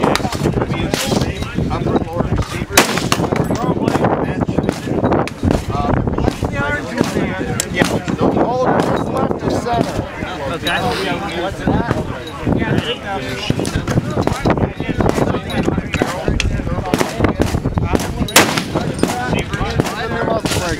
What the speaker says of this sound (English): that's shooting a 375 shotgun, 350 grain projectile